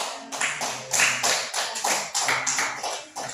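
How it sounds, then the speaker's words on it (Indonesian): A classroom group claps together for a student group after a presentation, a short run of fairly regular, crisp, close hand claps with no talking. "kita berikan aplaus untuk kelompok 2"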